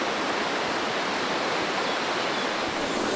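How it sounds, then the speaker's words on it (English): A river runs beside a riverside camp in flood-risk country, a steady broadband rush of flowing water with no breaks, close and loud, with no voices. "check the level of the river that I'm sleeping next to"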